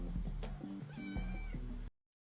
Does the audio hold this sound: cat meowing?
yes